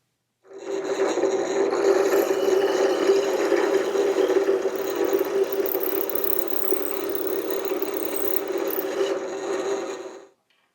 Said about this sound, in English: Now I'm going to bore this out so the cable will sit down inside and recess just a little bit.